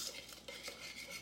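Cuban beans and rice salad stirred in a bowl, a brief, faint series of soft scraping and clinking utensil strokes.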